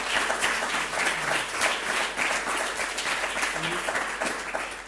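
An audience applauds the technical crew running lights and video at a science outreach evening, with dense, even clapping that holds steady and fades slightly at the end, while a voice speaks faintly beneath it.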